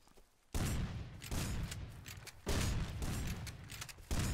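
Gunfire in the survival video game Rust: dense, rapid bursts of shots crackle close and loud for about two seconds at a time, with a brief pause between volleys.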